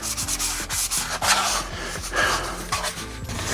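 A classic VW taillight lens being hand sanded, a close rhythmic rasping rub of quick back-and-forth strokes that repeats steadily, heard without talk.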